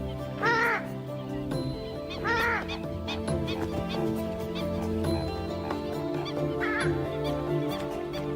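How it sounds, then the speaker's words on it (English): A purple swamp hen, also called the sultana bird, gives loud, harsh honking calls: two close together near the start and one more later, over a continuous outdoor background. "This is the purple swamp hen, also called the sultana bird, famed for its very loud,"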